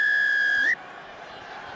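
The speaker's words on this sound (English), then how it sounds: "Amisha Kelly blows the first whistle" A referee's whistle blast at a rugby match, one sustained shrill tone lasting under a second, loud and near, then cut off as crowd ambience continues.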